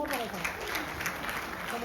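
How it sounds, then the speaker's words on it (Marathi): Clapping at a baby shower celebration, a dense spread of many hands applauding together for under two seconds, with voices mixed in. "कपासेल एकदा टाळ्या वाजूया."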